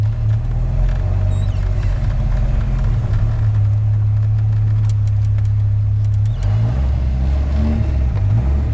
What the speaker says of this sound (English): It sounds amazing with the Belanger exhaust